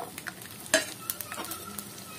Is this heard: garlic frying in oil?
yes